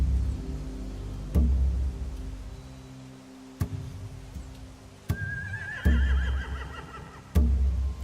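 Horses in The Walking Dead video game neigh and whinny in a distinct call partway through, amid several sharp thumps and a low rumbling game backdrop.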